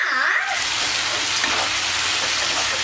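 Chicken for uppu kari sizzles loudly and steadily in a pan, a dense crackling frying hiss that starts right up close.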